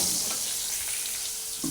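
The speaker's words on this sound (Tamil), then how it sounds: "வாழைக்காய் இன்னும் வதங்கிட்டு இருக்கு, இன்னும் சரியாக வேகட்டும்" Raw plantain sautéing in a pan gives a continuous bright sizzle and hiss, close and steady, with a faint scrape of a spoon near the end.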